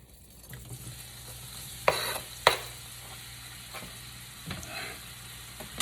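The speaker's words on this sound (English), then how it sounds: "So we're gonna go ahead and drop that onion in there." Chopped onion dropped into a hot pan for a vegetable sauté, giving a steady sizzle with a few sharp utensil scrapes and clinks as it is stirred, close and moderately loud, no voice.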